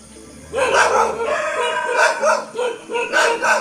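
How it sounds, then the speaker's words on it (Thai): Several dogs bark loudly at night near an army ranger base during a wild elephant drive-off, a dense overlapping chorus of barks and yelps with some howl-like notes. "เสียงหมาเห่าดังระงม"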